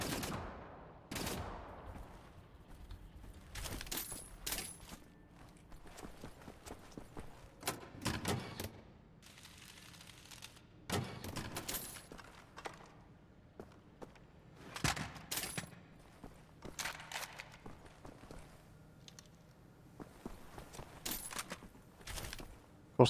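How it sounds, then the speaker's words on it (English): Bursts of gunfire from the video game Wolfenstein: The New Order, with rapid automatic volleys and separate shots in irregular clusters over faint background, fairly quiet and unaccompanied by speech. "I can't even see what I'm shooting at."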